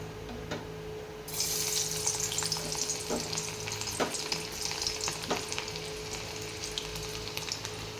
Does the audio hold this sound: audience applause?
no